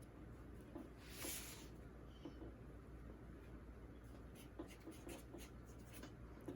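A pen or marker scratches a label onto lace fabric during dressmaking, soft steady scribbling strokes running close by over a faint background hum, with brief louder scrapes in the first seconds and no voices.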